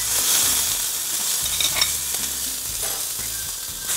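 Poblano peppers and cheese sizzle in avocado oil in a hot pan, a dense, even hiss of frying close up with faint stirring scrapes and no talking.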